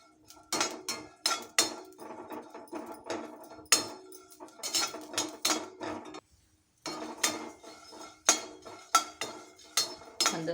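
Dry-roasted ingredients rattle and clink as they are stirred in a pan on a stove, a steady run of sharp, close scraping rattles in quick bursts with one brief pause.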